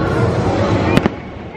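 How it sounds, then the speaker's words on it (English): A dense, continuous rumble of theme park fireworks in Florida with crackling, and a couple of sharper bangs standing out near the middle, loud and enveloping. "the fireworks go up all around you"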